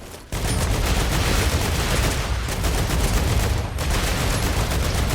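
Dense, loud automatic gunfire from a sci-fi shooter game, sustained almost without pause for several seconds after a brief quiet start, with one short dip midway.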